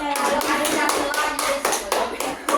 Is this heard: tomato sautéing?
no